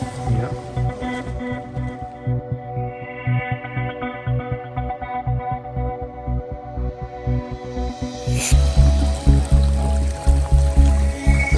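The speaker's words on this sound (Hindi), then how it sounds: "यहाँ से पानी फूट रहा है, यहाँ से बहता हुआ दूसरी तरफ जा रहा है." Warm water gushes out of the ground in Iceland and flows away across the surface. The rushing wash is steady and fairly loud, swelling abruptly louder and heavier near the end.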